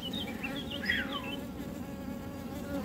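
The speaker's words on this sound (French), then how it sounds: "Il y a une abeille pondeuse là." Honeybees buzz steadily around a laying queen in a hive whose queen is nearing the end of her life, a close, continuous insect drone holding throughout with no pauses.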